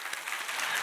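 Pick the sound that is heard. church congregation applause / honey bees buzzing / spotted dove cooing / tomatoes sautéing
church congregation applause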